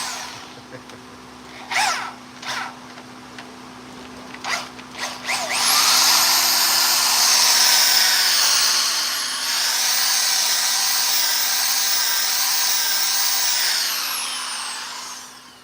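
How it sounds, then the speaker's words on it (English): A few short knocks and bumps, then a big, loud power drill whirs steadily for several seconds boring a one-inch hole, its motor pitch dipping briefly mid-run. "Gotta have a big drill for that kind of 1-inch hole."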